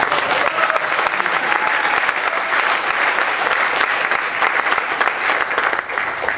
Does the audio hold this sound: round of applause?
yes